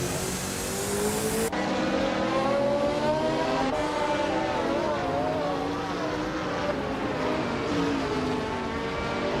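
Racing cars in a video game race, a steady loud engine drone with rising and falling revving whines as cars jostle for position, continuous throughout with a voice faintly beneath.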